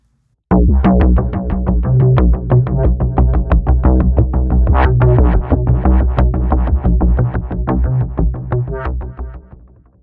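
A synthesizer patch plays a busy rhythmic sequence of plucky, punchy notes over a deep bass pulse, steady and loud for several seconds before fading.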